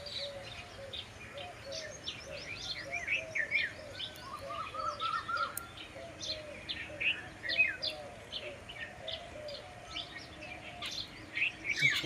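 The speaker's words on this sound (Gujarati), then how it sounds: "ચકલા બોલી રહ્યા છે." Sparrows chirp in a village on a calm morning, with many quick, overlapping tweets at moderate distance over a quiet background and the occasional soft coo.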